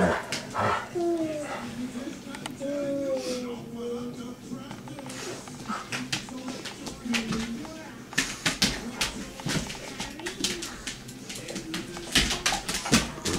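Dogs whimper and whine in a series of rising, high-pitched cries, mixed with yips, scuffling and clicking on a floor, all close by and fairly loud throughout.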